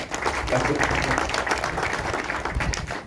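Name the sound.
applause at a political rally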